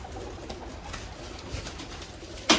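A rare golden pigeon coos softly and repeatedly against a constant background hiss, with a sharper, louder sound right at the end.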